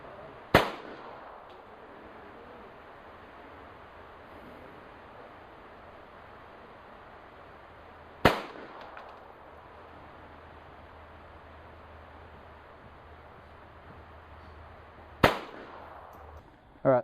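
Three sharp .22 LR rifle shots at a 50-metre range, spaced several seconds apart, each a loud crack that decays quickly over a steady background hiss.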